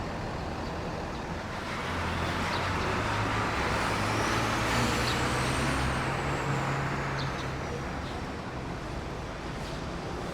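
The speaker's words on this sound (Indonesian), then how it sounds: "sudah berada di dalam interior dari bus Akas yang akan mengantarkan aku dari Sumeneb menuju ke Surabaya" Steady road and engine rumble inside an AKAS intercity bus travelling from Sumenep to Surabaya, a continuous loud drone with a low engine hum swelling slightly midway and faint passing traffic, no voices.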